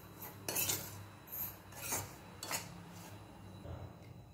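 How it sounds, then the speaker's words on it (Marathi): Dry fine semolina (rava) is stirred and roasted in a pan for tomato upma, producing soft scraping sweeps and a few metallic utensil scrapes against the pan, close and fairly quiet. "आता हा रवा व्यवस्थित भाजायचा आहे।"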